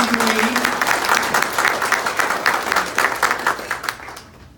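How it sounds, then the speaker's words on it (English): An audience claps for a city councilwoman at a sheriff campaign event, with dense, loud applause that holds steady and then thins out toward the end. "let's give her a round of applause"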